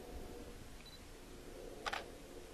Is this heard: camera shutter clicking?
yes